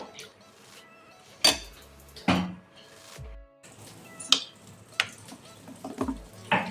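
Mixed fruit juice being stirred in a vessel, heard as sparse, fairly faint clinks and scrapes of a utensil against the container, arriving at irregular intervals with quiet pauses between them.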